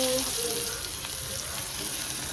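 Onions go into hot oil with cumin, curry leaves and asafoetida and sizzle steadily and evenly up close, ending in a brief sharp clink, with no talking.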